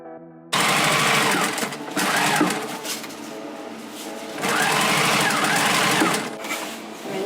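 A sewing machine stitching upcycled fabric for a ski outfit runs loud and close in two long steady bursts with a short pause between, its whirring motor and needle chatter alone.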